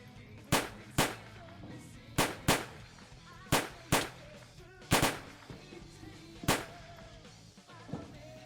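Gun Hunter robots fire in the City Escape stage of a Sonic game, giving about eight sharp, separate gunshot bursts spaced irregularly and heard alone, without talk.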